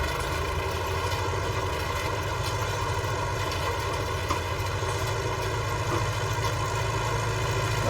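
A 1965 tractor engine runs steadily while drilling winter wheat, a constant mid-pitched mechanical drone with a faint clatter, loud and close, no voices.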